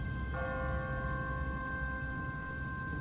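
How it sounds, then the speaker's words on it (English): An automatic church bell in The Walking Dead video game strikes once and then rings on with a steady sustained tone, heard over low ambient rumble with no speech. "What kind of church bell goes off at 20 past the hour?"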